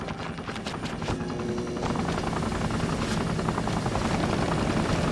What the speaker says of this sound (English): There's a police helicopter now.